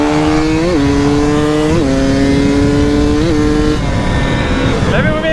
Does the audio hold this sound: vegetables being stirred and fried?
no